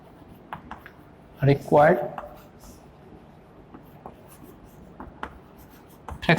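Pen strokes writing out a Class 10 linear-equation maths solution on paper: a few short scratchy bursts separated by quiet gaps, with a low voice faintly in the background.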